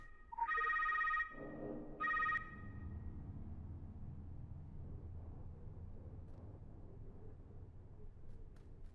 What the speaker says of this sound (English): Oh, it's this desk phone here.